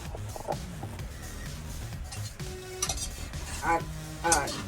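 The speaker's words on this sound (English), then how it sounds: "frying my shrimp." Shrimp sizzle in a hot pan while a utensil stirs and scrapes, with occasional clinks against the metal. No one speaks.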